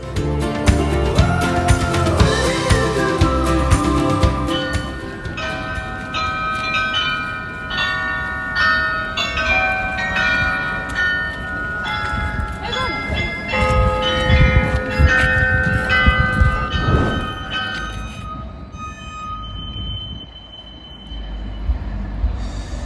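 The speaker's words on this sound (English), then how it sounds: "the church bells started ringing" Church bells peal steadily from the St. Peter's Church tower, a dense layered clangor of overlapping strikes that rings on loudly for the whole stretch before thinning slightly near the end.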